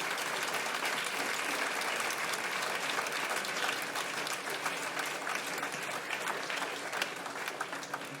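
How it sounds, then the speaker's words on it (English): Sustained applause from a concert audience after a Beethoven symphony performance, a dense, steady wash of clapping at even loudness throughout with no voices. "I don't know if you can hear the Westport applause"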